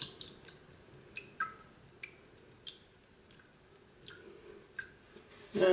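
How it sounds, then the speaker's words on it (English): A shaving brush dipped in water and shaken out before a straight razor shave, giving a series of light drips, splashes and soft flicks spread unevenly across the moment, close by and fairly quiet, with no voice. "Put the brush in some water, soak it up, shake it out a little bit so that it's not too wet."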